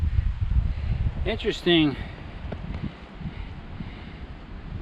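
Wind buffeting a microphone while backpacking in the Superstition Wilderness in January, a steady low rumbling roar running throughout, with a person briefly speaking over it.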